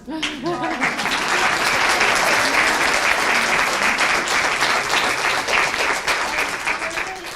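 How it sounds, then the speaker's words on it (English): Conference audience applauds a panel of PTA advocates at a general session, steady loud clapping filling the room throughout, with a brief voice at the start and faint whoops. "please let's give a big round of applause"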